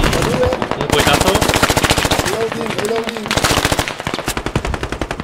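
Bursts of automatic rifle fire and rapid gunshots in the military shooter game Squad, loud and close in quick repeated volleys, with a voice shouting briefly underneath.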